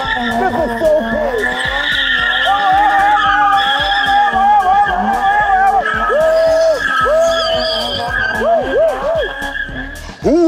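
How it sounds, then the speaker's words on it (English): BMW E30 spinning with tires skidding, a loud continuous squeal of rubber with wavering pitch over a revving engine, close and sustained throughout, with voices mixed underneath. "People love spinning BMW."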